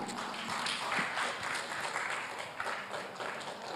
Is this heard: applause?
yes